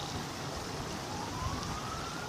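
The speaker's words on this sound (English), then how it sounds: "there's a siren in the background also" A faint siren wails far off, its pitch slowly rising, over steady outdoor background noise; no one speaks.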